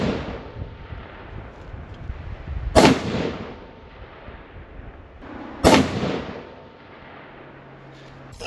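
Two rifle shots from a hot rod cartridge group test crack out about three seconds apart, each a loud sharp report with a rumbling outdoor tail.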